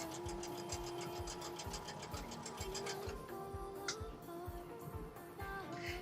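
A sewing machine stitches a quilting project in a steady, fast mechanical rhythm of regular ticking beats, with a faint hum underneath and no talk.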